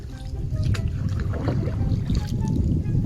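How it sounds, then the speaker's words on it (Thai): A boat moving through water, with a low engine rumble and sloshing, splashing water and wind noise throughout. "เริ่มเรือออกเลยนะคะ"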